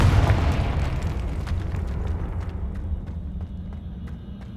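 A Confringo spell explodes in Hogwarts Legacy with a heavy, close boom that rolls off into a long, fading rumble, with a few faint crackles at the tail.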